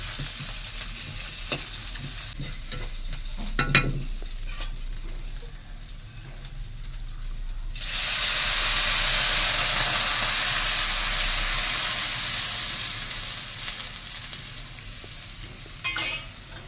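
Vermicelli upma fries in a pan with occasional spoon scrapes, then a loud hissing sizzle surges midway and gradually settles back down.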